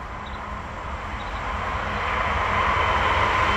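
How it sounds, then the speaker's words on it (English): A train rumbles past near an outdoor mini golf course, a steady broad roar that swells slightly louder toward the end, with no talk over it. "Also, there's a train right there."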